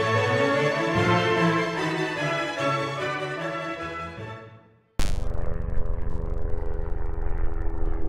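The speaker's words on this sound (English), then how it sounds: "Excuse the helicopter just flying over" A helicopter passes overhead on the Kent coast near the Isle of Grain, a loud throbbing drone that fades. It cuts abruptly to strong wind buffeting.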